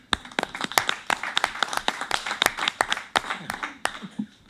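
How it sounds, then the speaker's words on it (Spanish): A small group claps at a regional council session, distinct individual hand claps in an uneven, sparse rhythm rather than a dense roar, fairly close and fading slightly toward the end. "un nuevo aplauso por ustedes también"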